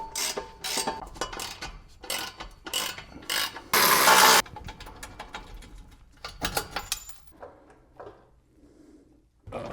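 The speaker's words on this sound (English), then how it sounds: "17mm wrench socket." A ratchet with a 17mm socket working a subframe bolt on a Nissan 240SX, a series of close, sharp clicking strokes with pauses and a brief harsh burst midway, no one speaking.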